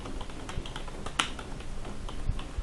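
Rapid, close keystrokes on a computer keyboard while PHP array code is typed, a dense run of light clicks with one sharper tap, no speech.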